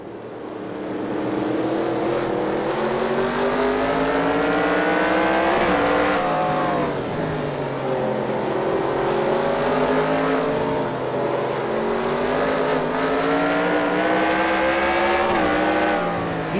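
Several race cars on a road course in the NASCAR Racing 2003 video game, loud continuous engine roar with rising and falling pitch as the cars accelerate, shift and brake through corners, no talk.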